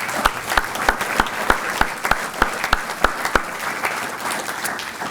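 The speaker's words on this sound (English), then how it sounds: "Give yourselves a round of applause." A crowd at a football gathering applauds with sustained clapping, some individual sharp claps standing out in a quick uneven rhythm, fairly loud and close, with no speech over it.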